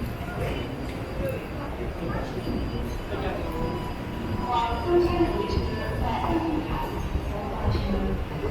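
A Taipei MRT metro train rumbles and rattles nearby with a steady low roar and clattering, while people talk faintly in the background.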